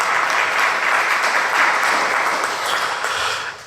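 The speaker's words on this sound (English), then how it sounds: "I think we will have a round of applause for Malfouna Abdel Masih." Audience applause at an international academic congress of the Nineveh University Chair, a dense, steady wash of clapping filling the hall at a fairly loud level throughout, with no voices.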